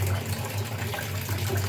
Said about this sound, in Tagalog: Agasan lang yung tubig.